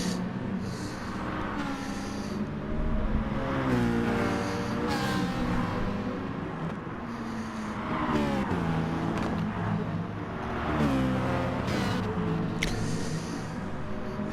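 Race cars accelerating past a Citroen, their engines rising and falling in repeated sweeping revs and bursts, loud and continuous with overlapping passes throughout.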